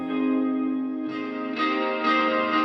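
Sustained electric guitar chords swell and overlap in a lush wash of reverb and delay, each new chord blooming over the fading tail of the last.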